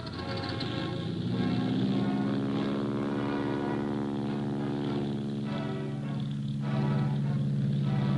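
A steady, droning engine and propeller hum from early wire-braced training airplanes on an air force flight line holds loud and even throughout, with no talking.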